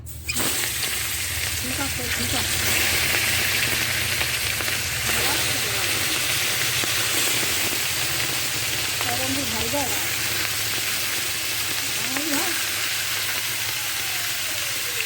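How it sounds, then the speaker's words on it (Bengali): Bata fish heads frying in hot oil in a wok, a loud, steady crackling sizzle held throughout, with faint stirring scrapes and a low hum underneath. "এই দেখুন তেলটা গরম হয়ে গেছে কড়াইতে, এবার বাটা মাছের মাথাগুলো দেবো।"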